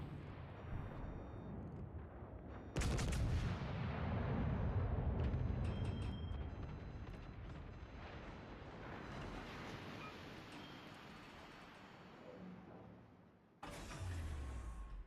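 Destroyer ship guns booming in a naval video game, a heavy blast followed by a long rumbling roar and a second burst near the end, loud and continuous with no talk.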